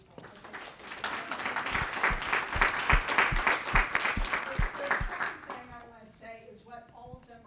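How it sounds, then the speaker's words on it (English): Audience applause after a talk on social entrepreneurs, a dense burst of clapping from a sizable crowd that swells, holds steady for several seconds, then fades as a speaking voice takes over near the end. "And so a big round of applause for these young people."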